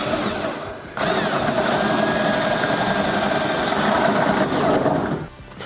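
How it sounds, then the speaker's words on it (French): A power tool cuts a hole through the body panel of a Lotus car with a loud, steady, high-pitched whine that runs unbroken for several seconds after a brief pause and then stops. "Je vais commencer par faire un trou."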